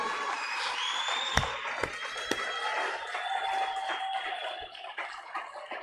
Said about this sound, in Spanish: Yo pensé que usted le iba a dar un aplauso más fuerte al Señor,